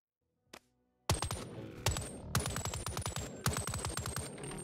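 A Modern Warfare 2019 AK-74U mod in Boneworks fires long rapid automatic bursts, loud and close, with a steady rattling cadence and bright metallic casing clinks, after a single short click.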